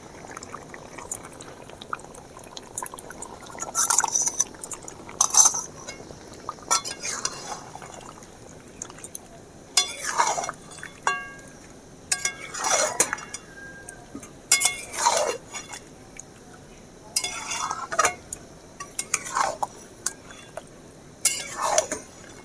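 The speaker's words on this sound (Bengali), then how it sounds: "ফেটে রাখা টক দইটা দিয়ে দেব" Beaten sour yogurt going into chicken in a pan for chicken do pyaza, a series of wet plops, clinks of utensil on vessel and soft sizzling spurts, close and moderately loud, no voices.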